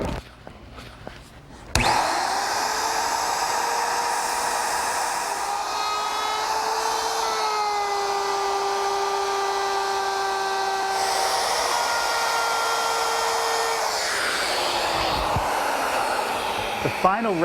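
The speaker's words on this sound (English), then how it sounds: "On the 2 edges that show, I want to route a decorative edge." A router fitted with a wavy edge bit cuts a decorative edge into a cherry wood vanity side, a steady high motor whine running loud and unbroken after a brief quiet start, its pitch sagging slightly as it loads up near the end.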